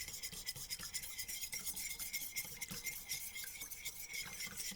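A whisk beats egg, milk and vegetable oil into muffin batter in a bowl, a quiet, rapid scratchy clatter in a steady rhythm, close and continuous.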